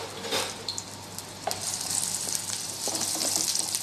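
Sliced onion frying in a quarter cup of oil in a pan, a steady close sizzle with scattered crackles and pops, alone without voices.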